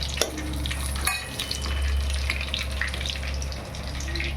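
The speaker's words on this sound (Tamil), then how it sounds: "ஜீரகம் கொஞ்சம் போடணும்." Cumin seeds splutter in hot oil in a pan, a close continuous crackling sizzle with a few sharper pops over a steady low hum.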